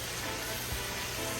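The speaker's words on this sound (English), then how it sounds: "Hear that sizzle?" Brown stew sizzles steadily in a pot over an outdoor wood fire, a dense, constant hiss with no pauses and no voices.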